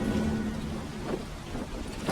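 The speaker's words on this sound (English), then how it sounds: "It's raining." Steady rain hisses throughout in The Sinking City video game, with a low rumble of thunder underneath; no voices are heard.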